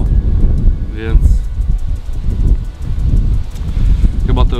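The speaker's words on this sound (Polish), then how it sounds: "jest za to silny wiatr, jest potwornie zimno" Strong, gusty wind buffets the microphone beside a fishing lake on a cold November day, a steady low roar that swells and dips throughout, with faint chirps in the background.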